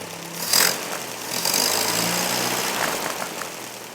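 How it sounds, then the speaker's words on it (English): A nearby Land Rover engine idles steadily with a rough, puffing ticking from an exhaust leak layered over a low rumble, holding at an even level throughout. "I think we have an exhaust leak."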